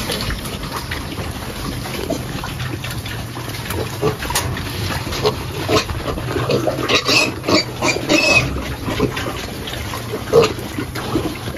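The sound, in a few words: pigs and piglets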